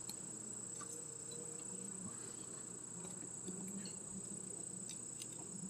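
Honey bees hum in a steady, dense drone inside a farm hive just after gentle smoking, a soft continuous buzz with faint scattered ticks and taps.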